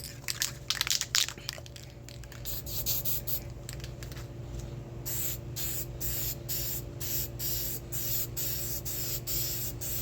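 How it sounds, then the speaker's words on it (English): Bursts of aerosol spray from a spray can coating car headlights hiss, a long steady stretch and then a series of short regular blasts, close by over a constant low hum. "We're gonna start spraying these lights."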